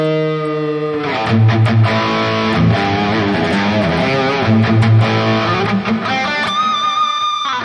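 A heavily distorted electric guitar through a Valeton GP-200 amp modeler plays chords and riffs, thick and saturated with high gain, loud and sustained throughout with no talking.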